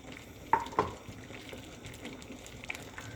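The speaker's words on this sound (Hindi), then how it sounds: "और इसमें 3 जवे लहसुन के चॉप डाले हैं और इसको 30 सेकंड के लिए सौटे करना है" Three cloves of chopped garlic sauté in two tablespoons of oil in a pan, a soft, steady sizzle with a couple of sharp clinks of a utensil against the pan early on.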